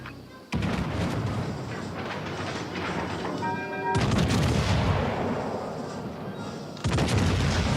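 Naval guns fire in World of Warships: Legends, heavy booming salvos that come as sudden loud blasts followed by long rumbling decay over continuous battle noise.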